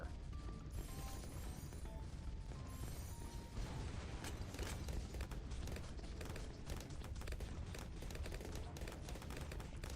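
Mortar towers firing in Bloons tower defense, a dense continuous barrage of booms and crashes with mechanical clatter filling the whole stretch, loud and busy with no talking.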